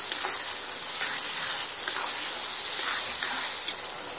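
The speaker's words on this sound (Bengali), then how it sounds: "আদা রসুনটা দিয়ে আবারও সুন্দর করে কষিয়ে নেব।" Onions and ginger-garlic paste being sautéed for a potato and egg curry give off a close, constant, crackling sizzle in the pan, with faint stirring scrapes and no voices.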